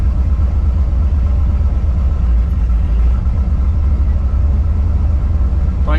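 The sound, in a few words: 1973 Javelin AMX engine idling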